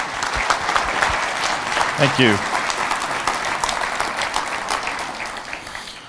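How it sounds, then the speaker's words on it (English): Audience applause for a keynote speaker at a PASS SQLRally Nordic conference, a full crowd clapping steadily throughout while someone briefly speaks over it. "Give him a hand."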